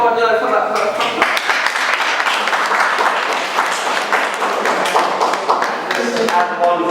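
An audience applauds participants of a sickle cell support programme, a steady, dense clatter of many hands lasting several seconds at close range, with voices talking over the start and the end.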